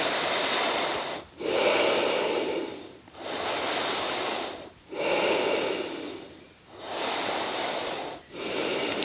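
Ujjayi breathing during a yoga session, slow audible ocean-like breaths through a constricted throat, about five long hissing inhales and exhales with brief pauses between, close and steady with no talking.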